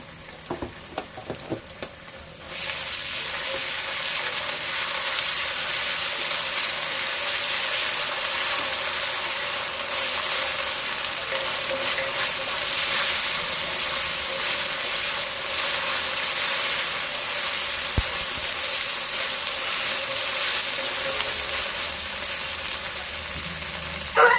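Ginger garlic paste hits a hot pan and breaks into a loud, steady sizzle that holds evenly for about twenty seconds after a few brief clinks, close and with no voices.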